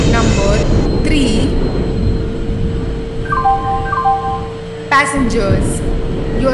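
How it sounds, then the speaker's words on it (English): Express train pulling into a platform in a train driving video game, a steady low rumble with a sustained tone and brief horn-like chimes, with a station announcement voice over it. "Express is arriving at platform number 3."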